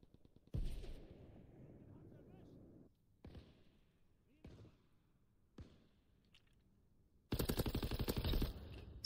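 Rifle shots ring out in Call of Duty WW2 multiplayer, a handful of separate loud cracks with quiet game ambience between them, then a rapid burst of automatic fire near the end.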